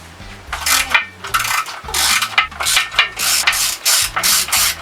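A socket ratchet working on 8mm bolts on a Johnson Seahorse outboard engine block, loud and close, with a rapid rhythmic series of clicking pawl strokes in short repeated bursts.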